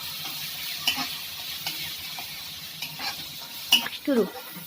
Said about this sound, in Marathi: आता हा कांदा झालेला आहे परतून बऱ्यापैकी.